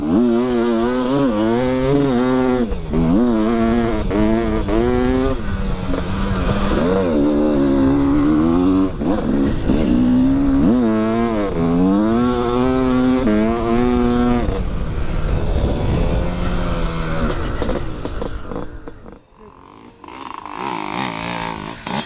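A dirt bike engine snarls and revs hard throughout the ride, rising and falling in pitch with each throttle blip, close and loud, before briefly dropping away near the end and picking back up.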